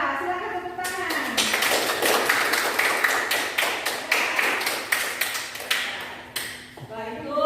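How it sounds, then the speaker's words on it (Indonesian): A classroom of students applauds the best group, a burst of bright clapping that carries on for several seconds, with a teacher's voice just before and after. "Kelompok terbaik jatuh kepada kelompok 2. Silakan tepuk tangan."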